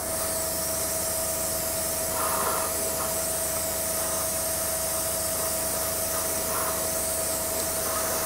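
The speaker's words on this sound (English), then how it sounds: "Spraying the bottom of the sponsons at the moment, and we'll be spraying the bottom of the vehicle as well." Continuous hissing spray of primer from an airbrush or spray can onto the underside of a Tamiya T-55 tank model, steady and close, with a faint mechanical hum underneath and no talking.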